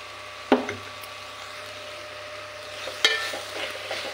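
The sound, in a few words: stirring onions with turmeric frying in a pan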